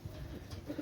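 A Pakistani imported teddy-breed pigeon gives a brief, soft, low coo, faint and close, lasting under a second.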